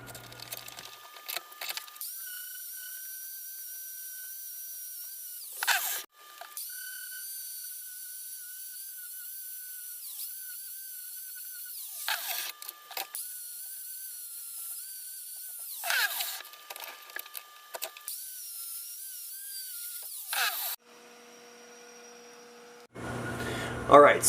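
A small grinder cleans up metal in a home welding workshop, a thin high whine running in long stretches broken by several short pauses, fairly faint over a low hum, with no talk.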